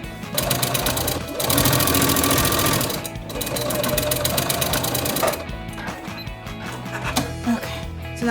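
A sewing machine stitching boy's athletic pants runs in a loud, close, rapid mechanical chatter, with short bursts separated by brief pauses and a slower stitching run near the end.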